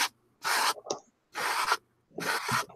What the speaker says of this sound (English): I think I'm just going to use the card to apply some gesso first